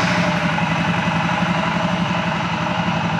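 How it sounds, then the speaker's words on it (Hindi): A 2022 Royal Enfield Scram 411 motorcycle idles up close, its engine holding a steady, loud low thump with an even pulsing beat and no revving. "ये देखिए सेल्फ का साउंड सुनेंगे फिर इंजन का"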